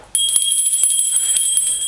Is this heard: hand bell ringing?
yes